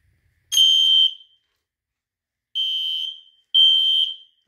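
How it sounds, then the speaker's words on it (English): A smoke alarm in a small test fire alarm system gives three piercing, shrill tones, the first longer, then two short blasts after a pause, loud and close in an otherwise quiet room. "So, now we're gonna do the smoke alarm."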